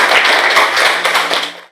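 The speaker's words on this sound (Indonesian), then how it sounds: "Tepuk tangan dulu." A classroom group claps hands together during a teacher training lesson, a short burst of brisk, slightly uneven claps close by with a few sharper taps, fading out quickly.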